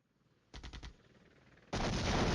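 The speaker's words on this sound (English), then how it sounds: "All right, so we're firing Illumination" Artillery firing illumination rounds in Flashpoint Campaigns, a quick run of four sharp booming shots, then a brief lull before a loud sustained roar of gunfire.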